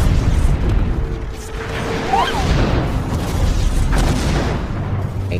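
A grenade detonates in a monster-versus-alien action film, giving a loud booming blast with a rumbling tail that runs for several seconds under a dense, busy soundtrack.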